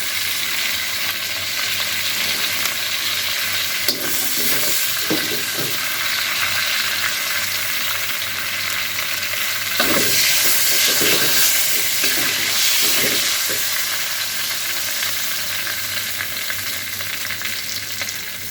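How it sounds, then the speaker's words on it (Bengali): Chicken pieces fry lightly in hot oil with a continuous close sizzle, punctuated by occasional stirring scrapes and louder crackling bursts, with no talking. "তো আমি এরকম হালকা করে ভেজে উঠাই নিচ্ছি"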